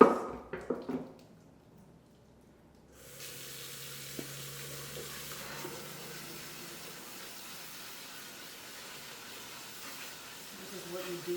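Cold tap water runs over cooked ramen noodles in a colander in a home kitchen, a steady, fairly soft stream of splashing after a few clattering knocks at the start.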